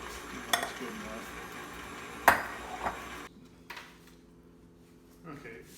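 Christmas fruitcake batter being stirred and mixed in a bowl, with soft scraping and a few sharp clinks of a utensil against the side, while people talk nearby.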